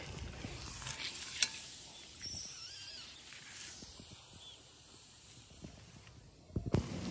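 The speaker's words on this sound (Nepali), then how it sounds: "ल फ्राई भएर यतिको भइराखेको छ।" Buffalo meat sizzles and fries in a pan for pickle, seasoned with garlic, chili, cumin and Sichuan pepper powder. A steady, faint crackling hiss is broken by occasional sharp pops and the clatter of stirring.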